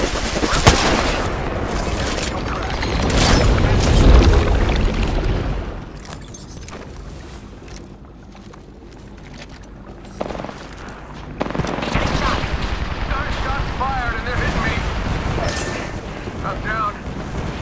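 Gunfire in the video game Apex Legends comes in loud dense bursts and rattling volleys, with heavy booms in the first seconds, a calmer stretch, then renewed sustained firing, all mixed with game sounds and callouts.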